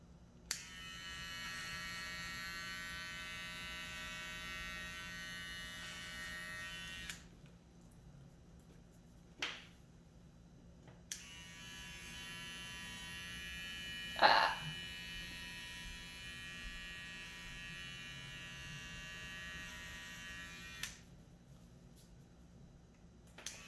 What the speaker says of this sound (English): I'm going to actually do a reverse clip just because I like to get it really short right in front of his nose